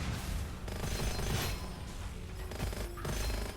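Rapid gunfire bursts in the shooter video game Gunfire Reborn, dense and continuous over a game soundtrack, with a few sharp shots standing out near the end.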